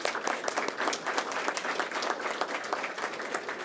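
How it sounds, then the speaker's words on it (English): A room full of people claps at a school board meeting, fairly quiet but dense, with individual hand claps standing out in a steady patter. "Let's give him another round of applause."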